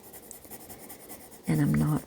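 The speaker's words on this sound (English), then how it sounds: "And again, I'm turning my pencil once in a while." A pencil scratches steadily across paper in a children's drawing lesson of a pizza, soft and continuous at first, then a louder, firmer stroke near the end, with a faint voice in the background.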